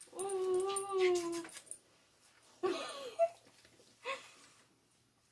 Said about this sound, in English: Oh, my doggy.